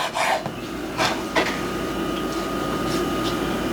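A knife cuts sausage strips into medium chunks for Filipino fried rice, giving a few quick, close scraping cuts early on over a steady low background hum.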